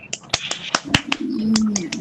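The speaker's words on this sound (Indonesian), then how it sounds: "Kalau gitu tepuk tangan untuk kita." A few sharp, separate claps ring out unevenly at close range in a school group guidance session, mixed with brief vocal sounds and a sustained voice toward the end.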